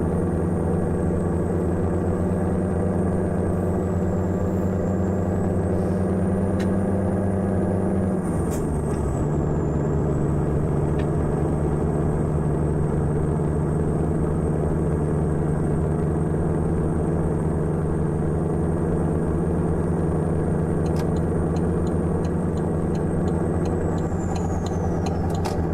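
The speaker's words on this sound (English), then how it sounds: "We're using one of my favorite engine sounds, which is Slav Jerry's" A Kenworth A-Model truck engine in American Truck Simulator drones loudly and steadily, its pitch dropping once as it shifts, with a faint high whine above and a few light clicks near the end.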